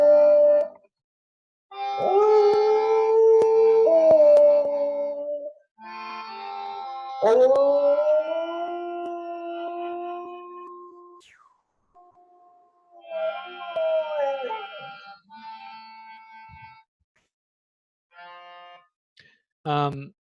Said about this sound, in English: that was my dog singing along